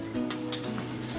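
Butter melting into hot caramelized sugar sizzles softly in a pan, with a few light clinks of a spoon while stirring, close and steady.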